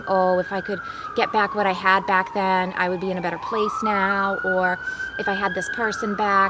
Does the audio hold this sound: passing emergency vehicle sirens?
yes